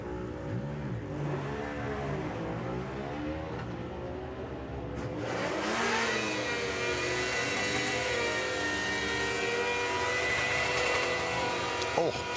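A Ducati motorcycle making a drag racing run at a national drag strip event, its engine roaring loud and rising through the gears over a steady crowd and announcer backdrop, with people talking throughout.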